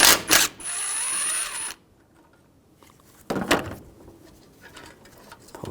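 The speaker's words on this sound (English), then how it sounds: "We can disconnect this line. Use a 13mm socket." A socket loosening the bolt on an AC condenser line of a 2004-2012 Chevrolet Colorado 3.7L, heard as brief close bursts of tool whirring and a steady whine, then a pause and a few sharp metallic clicks.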